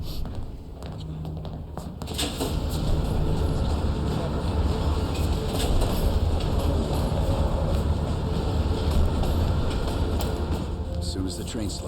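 A train in the video game Black Ops Cold War rumbles along its rails with a steady, loud rolling clatter that swells in after a quieter start, and voices talk over it.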